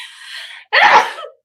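A single loud sneeze: a sharp drawn-in breath followed by a forceful burst, close and alone.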